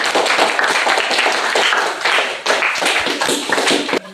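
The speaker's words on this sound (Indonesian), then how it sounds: "tepuk tangan untuk kelompok 2" Classroom audience clapping for a student group after its presentation, a dense, loud burst of many hands sustained for about four seconds before tapering off.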